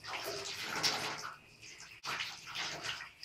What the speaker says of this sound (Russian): Включаем воду. Подставляем ее под струю воды.